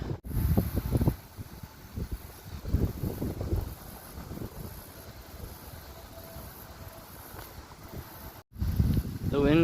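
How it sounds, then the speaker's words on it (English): Wind gusting across open water on a canal during a paddleboard trip, a steady broad rush with buffeting on the microphone, and a person talking over it at the start and again near the end. "The wind came along,"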